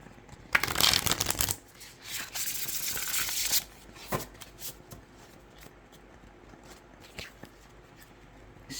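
A deck of oracle cards made of good-quality cardstock is shuffled up close in a loud, crisp riffle lasting a few seconds. Softer shuffling rustles and light taps follow.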